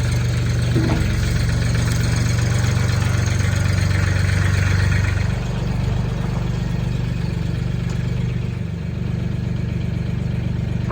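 A Mahindra or Farmall tractor engine idles steadily and loudly up close, a continuous low rumbling drone with a faint knock throughout.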